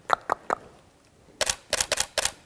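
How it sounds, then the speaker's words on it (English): A camera shutter fires in quick bursts while photographing a cat indoors in natural light: three crisp clicks, a pause, then a rapid cluster of four or five louder snaps close by, with no talking. "There we go, we got a nice headshot of Henry."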